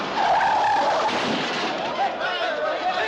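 A car with no brakes skids along a city street: a loud, sustained tire screech wavers and drags on for about three seconds, close and harsh.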